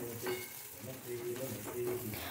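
Steamed okra stirred in a pan before being moved to a bowl, giving a soft, close scraping and light sizzle with a few brief stirring strokes.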